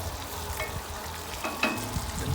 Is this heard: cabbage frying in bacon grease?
yes